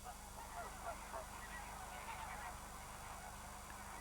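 A dense flamingo colony of about ten thousand nesting birds honks continuously at a distance, a steady, faint, overlapping chorus with no clear pauses.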